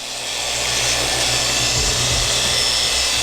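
A power polisher whirs loudly and continuously as it buffs a surface, with a low rumbling wobble under a steady broadband hiss.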